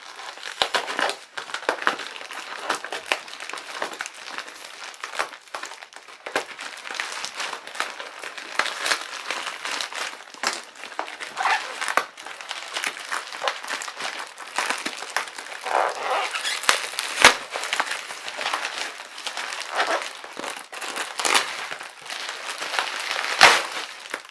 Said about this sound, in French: je vais prendre un cutter et je vais me taire le temps que j'ouvre